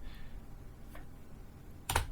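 A computer keyboard's space bar is pressed once, producing a single crisp click against quiet room noise, with a faint earlier tap.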